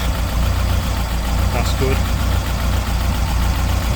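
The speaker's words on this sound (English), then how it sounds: "I'm going to get this engine warm, change the oil." A Ford Escort engine idles steadily with a low, even rumble and a faint knocking beat while warming up after a thermostat change, as someone speaks briefly over it.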